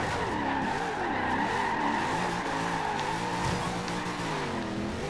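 A Chevrolet Corvette Stingray in the Forza Horizon 2 racing game slides with a steady, loud tire squeal layered over a droning, wavering engine note, continuous and without any talking.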